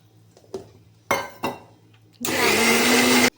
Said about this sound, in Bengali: এইবার মিক্সির বাটিতে এই জারটাতে ঘুরাবো